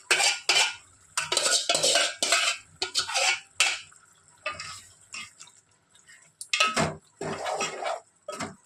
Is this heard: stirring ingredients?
yes